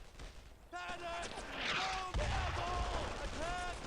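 Bursts of machine gun fire in the WWII shooter Brothers in Arms: Earned in Blood crackle at moderate distance, punctuated by a heavier thump midway, while someone talks over the battle.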